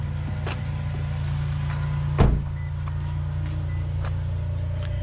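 A Toyota Highlander engine runs steadily after the ignition is started, a continuous low hum with one sharp thump or click partway through and a few faint ticks, with no one speaking.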